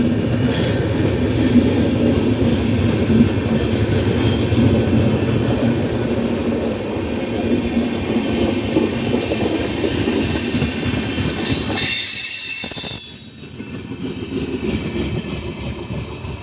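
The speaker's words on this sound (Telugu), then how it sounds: "మల్కాజ్గిరి ట్రాక్ పైన నుండి ఈ ట్రైన్ రైడ్ నడుస్తుంది" A train runs on the 3 km Sitafalmandi A Cabin to Lalaguda Loco Shed chord line from the Malkajgiri track, a steady close rumble with rail clatter and wheel squeal throughout, dipping briefly near the end.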